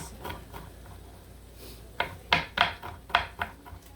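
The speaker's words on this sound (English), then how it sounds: "We're chopping this garlic just to get it in with everything else." A knife chops garlic on a cutting board in a home kitchen while making lasagna: soft scraping at first, then about six sharp, close chops in a quick, uneven rhythm.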